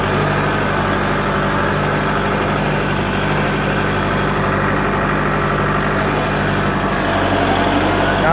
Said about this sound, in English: I'll rev it up a little bit more once it warms up a little more.